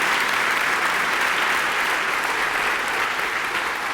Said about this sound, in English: So let's please give her another round of applause.